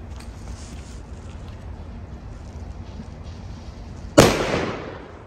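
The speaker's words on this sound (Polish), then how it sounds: "ocencie sami, jak owe petardy strzelają." A single sharp bang from a Triplex Bulldog TXP858 firecracker bursts out near the end, decaying quickly after several seconds of steady background hiss.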